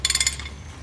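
A hand ratchet clicks rapidly through a short burst of about six pawl ticks while loosening a bolt on a Dodge/Jeep, then falls quiet.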